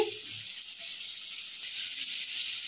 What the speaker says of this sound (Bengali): চিংড়ি মাছটা ভেজে নিয়ে ফিরে আসছি